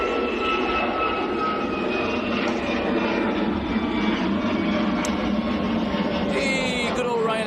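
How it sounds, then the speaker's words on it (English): A Ryanair airliner takes off at Manchester Airport in the early morning, its jet engines giving a loud, steady roar with a whining tonal edge throughout, the sound shifting slightly near the end. "good old Ryanair getting airborne"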